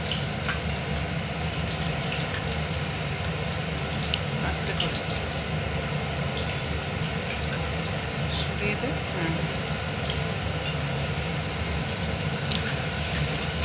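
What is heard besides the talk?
dahi vada (lentil fritters) frying in oil while being flipped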